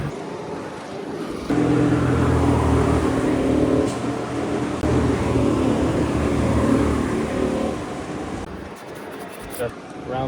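Go-kart engines on a flat outdoor karting track in Fuerteventura, a steady loud motor drone with slight revving that holds through most of the stretch, with voices talking over it.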